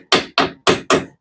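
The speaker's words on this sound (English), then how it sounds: "hammer these in, and we'll do our other safety clip" Four loud, close hammer strikes drive brake pad safety clips into place on a 2002 Ford Escort, sharp metallic thwacks in an even rhythm about three per second with brief silences between them.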